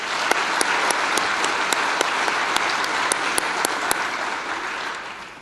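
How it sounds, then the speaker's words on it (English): Audience applause fills the hall at the Modesto Chamber of Commerce 2014 awards gala: dense, sustained clapping from a large crowd, steady throughout and easing slightly at the very end. "Let's give them a round of applause."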